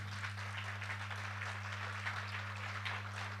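A church congregation applauding, dense continuous clapping held at a steady level over a strong low hum, with no talk.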